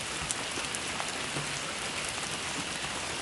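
Heavy rain pours steadily onto a surface, a dense, even hiss with scattered droplet patters throughout and no voices.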